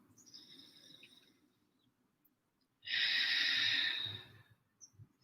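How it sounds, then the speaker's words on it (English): A deep meditative breath is drawn and released outdoors, one long, loud rushing exhale standing out from quieter airy breathing, with faint birdsong chirping in the background. "I might close my eyes and take some deep breaths"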